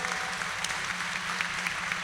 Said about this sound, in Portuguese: Uma salva de palmas a todos os profissionais da CEMED.